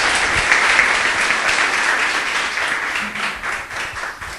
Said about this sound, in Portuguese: Louve a Ele com suas palmas.